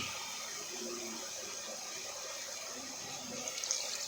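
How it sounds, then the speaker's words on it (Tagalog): Steady stream of water pouring into a pot of cooked chicken for tinola, a continuous hissing splash at even volume with a slight gurgle near the end. "Lagyan na natin ng tubig."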